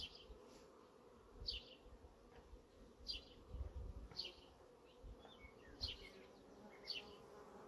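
Honeybees buzz around an open hive during an inspection after a second brood box was added, a soft constant hum broken by louder buzzes of single bees passing close every second or so.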